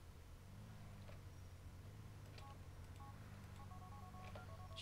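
Phone keypad tones in GTA IV sound as a few short electronic beeps over a steady low game hum, coming in small stuttering groups, quiet and close.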